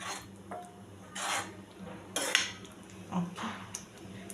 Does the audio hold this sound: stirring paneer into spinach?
yes